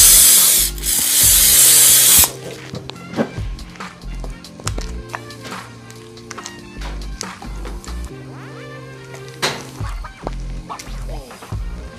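Cooking spray hissing into a baking tin for banana bread, one loud burst of about two seconds at the start, followed by faint handling and clatter.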